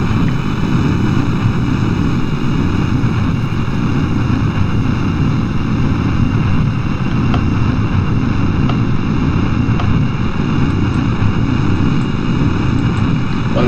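A spaceplane engine in Kerbal Space Program roars as a steady, loud, unbroken drone with a broad rushing hiss, holding constant throughout and with no voices.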